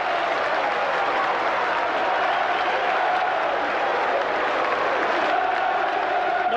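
A football crowd applauds a goalkeeper's save at a Millwall match, steady dense clapping and cheering from a large stadium audience, sustained and even throughout without any voice on top.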